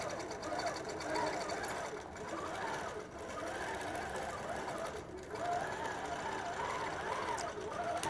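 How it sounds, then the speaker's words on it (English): A sewing machine runs an automatic quilting pattern on a quilt, a fast continuous mechanical whirring and ticking that holds steady for about eight seconds with slight dips, close up and alone. "It's going to do a few locking stitches. And then it's going to start my pattern."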